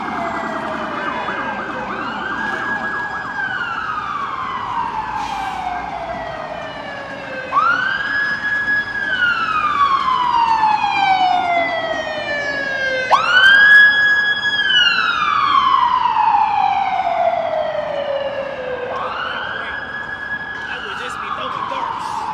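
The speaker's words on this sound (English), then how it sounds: "got a couple of police and ambulances making their way down here." Police and ambulance sirens wail along Broadway in New York City, several rising-and-falling sweeps that overlap and repeat, loud and fairly close over steady street traffic.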